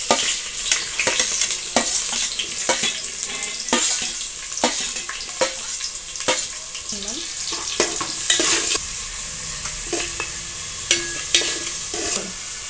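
Onions and cloves sizzle steadily in a hot pan for a capsicum cashew curry, a continuous loud fry broken by sharp clinks and scrapes of stirring, with no talking.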